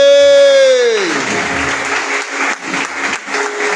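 Applause from a church congregation during a Spanish-language sermon, a broad wash of clapping that rises as a sung or spoken held tone fades out, with a voice briefly over it.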